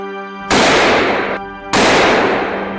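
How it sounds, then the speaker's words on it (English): Two loud, sharp gunshot blasts are fired at wild boars at a forest edge around dusk. Each crack rings out and decays over about a second, following a low steady hum. "the burst of gunfire sent the entire pack fleeing into the darkness"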